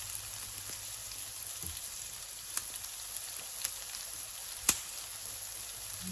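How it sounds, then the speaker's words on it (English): Ingredients for tomato pasta fry in a pan with a steady, soft sizzle and occasional small pops and crackles, fairly quiet and with no voices. "Just fry out for a bit and mix it around and try not for it all to fly out."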